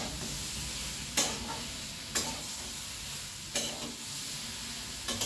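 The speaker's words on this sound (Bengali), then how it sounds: "এই সমস্ত সবজির সঙ্গে ইলিশ মাছের মাথাটাকে আমি ভালো করে ভেজে নিচ্ছি" A hilsa fish head fries with mixed vegetables in a pan, giving a soft continuous sizzle broken by a few sharp stirring scrapes at regular intervals, close and with no talking.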